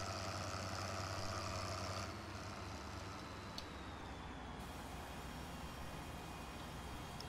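A roughly 220-horsepower tractor idles in Farming Simulator 2013, a steady, low mechanical drone that shifts slightly partway through and then holds even and continuous, with no talking.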